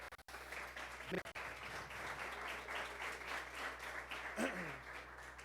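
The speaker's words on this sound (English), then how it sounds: "let's give a big round of applause to everyone who has set this up tonight" Applause from a crowd at a company product event, a continuous wash of clapping heard faintly at a distance, with a couple of voices breaking in briefly.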